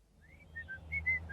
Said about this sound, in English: He whistled as he clambered into the driver's seat